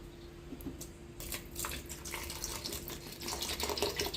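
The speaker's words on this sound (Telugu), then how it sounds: "ఇప్పుడు ఐస్ వాటర్ వేసుకుందామండి." Ice water poured over churned butter during homemade ghee preparation, a continuous splashing pour that grows louder after the first second and runs steadily to the end, close by.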